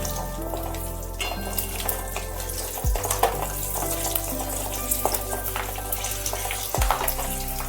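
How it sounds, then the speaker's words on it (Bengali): Asafoetida and three green chillies frying in oil for a Bengali spinach fry, a steady close sizzle with occasional stirring clatter and two sharp metallic knocks, no talking. "আর দিয়ে দিচ্ছি তেলের মধ্যে পরিমাণ মতো একটু হিং, আর দিচ্ছি 3টে মতন কাঁচা লঙ্কা"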